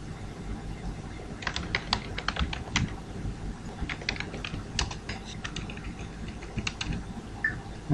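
Rapid typing on a computer keyboard during a web development coding session, with bursts of fairly close, quiet key clicks over a low background hum.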